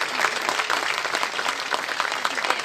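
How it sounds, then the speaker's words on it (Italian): A crowd gives a short burst of steady applause at an evening event, moderately loud and continuous. "Applauso."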